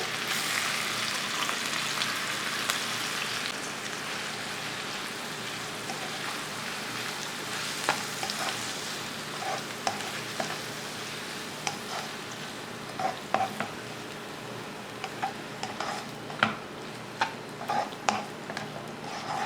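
Crushed onions frying in oil with masala for a spicy dry fish fry, a steady close crackling sizzle with scattered sharper pops and spatters growing more frequent over time, no voices.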